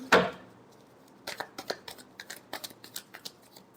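Tarot cards being shuffled by hand, a sharp riffle burst at the start followed by a run of soft, quick card slaps and flicks, close and fairly quiet with no talking.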